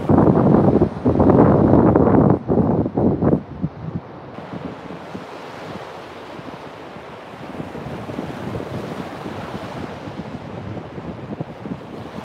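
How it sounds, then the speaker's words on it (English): Ocean waves wash ashore at sunrise, a loud rushing surge at first that settles into a steady, softer wash of surf with wind noise on the microphone. "the sound of the waves"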